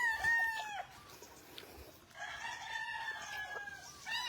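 A local banded stag crows on a game farm, two long drawn-out crows close by and fairly loud, the second stretching nearly two seconds, separated by a brief quiet gap and followed by the start of another call.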